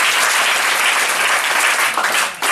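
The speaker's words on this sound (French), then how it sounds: "Il n'est pas ici, mais on peut encore l'applaudir" Loud, dense applause from a crowd at a prayer ceremony in homage to the late Papa Ricardo, sustained clapping that dips briefly near the end, with no speech over it.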